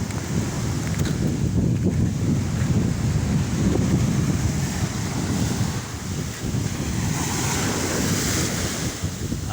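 Ocean waves surge and break on a beach lined with coconut palms at high tide, a continuous loud rush of surf with steady wind buffeting the microphone.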